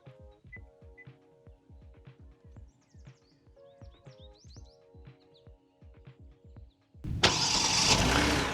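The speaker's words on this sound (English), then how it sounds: "And here you go, the car's running." Quiet outdoor ambience with chirping birds and light clicks, then a Genesis G90's engine, started by remote start, cranks and roars to life loudly near the end, idling steadily.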